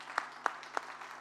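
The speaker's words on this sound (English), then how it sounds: "could we all please give her and the team a huge round of applause?" Sparse hand claps ring out at a keynote on the influencer marketing economy as the audience is asked to applaud the conference team: three sharp, evenly spaced claps stand out, with fainter scattered clapping behind them.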